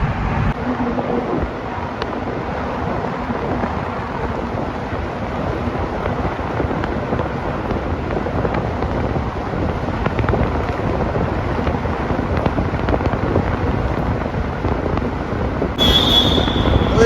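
A vehicle drives through the 11 km Banihal tunnel on the road from Jammu toward Baltal in Kashmir, giving a steady, loud, enclosed roar with rumbling, wind-like noise that holds throughout.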